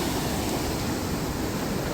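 Rough sea surf surging during a tropical wave on the Jamaican coast, with water washing across a roadside; a constant, loud, broadband roar of breaking waves fills the short stretch without pause, and no voices are heard.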